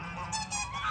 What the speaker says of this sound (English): Those geese are being mean to you.